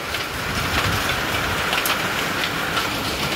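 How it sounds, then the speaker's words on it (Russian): Dense, constant patter of hail pelting surfaces and a porch nearby, a loud continuous rattling hiss with scattered sharper hits. "град прилетает даже на крыльцо"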